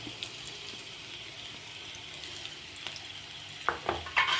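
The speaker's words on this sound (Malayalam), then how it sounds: "അര സ്പൂണ് കടുകും ഒരു വലിയ സവാള നീളത്തിൽ കട്ട് ചെയ്തതാണ് ഇട്ട് കൊടുക്കുന്നത്." Mustard seeds and sliced onion frying in hot coconut oil, a steady low sizzle throughout, with a few sharper clatters and stirring scrapes near the end. No one speaks.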